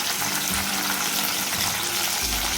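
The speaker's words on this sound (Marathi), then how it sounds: "तेल तापल्यावरती मी लसूण घालते त्यानंतर कढीपत्ता त्यानंतर बारीक चिरलेला कांदा" Garlic, curry leaves and finely chopped onion fry in hot oil in a pan, giving a steady, loud sizzle that runs unbroken throughout, with faint stirring at a couple of moments and no speech.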